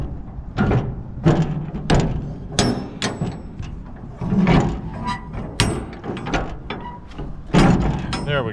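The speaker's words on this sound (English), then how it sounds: "Kinda need two hands to open up these doors." Latched steel doors on a 40-foot shipping container being worked open: a run of loud, close metallic clanks, rattles and latch knocks spaced every second or so, with a voice occasionally heard between them.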